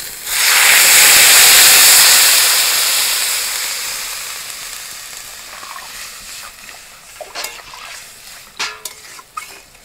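Water hits hot fried potato and plantain in a pan and bursts into loud hissing steam and sizzle that fades over several seconds, followed by a few scraping, clattering stirs of a utensil.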